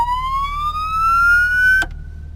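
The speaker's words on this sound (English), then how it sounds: "police siren" Police siren of a 1994 Australian Ford EF Falcon GLi police car, a loud wail sweeping steadily upward for almost two seconds before cutting off abruptly, leaving a quiet lingering tone over low engine hum.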